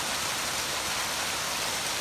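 Rain falling during a fish-catching outing: dense, even hiss of steady rain, close and fairly loud, with no other sounds and no talking.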